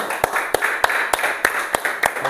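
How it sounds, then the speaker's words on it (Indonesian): Students in a classroom applaud a student group, a run of evenly spaced, sharp claps at a quick rhythm, fairly close and moderately loud, with faint room murmur underneath. "Tepuk tangan untuk kelompok 2."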